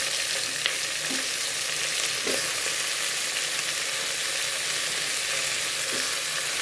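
Tomatoes hitting a pan of sautéed onions and frying with a dense, continuous sizzle, close and loud, with a few soft stirring knocks and no voices.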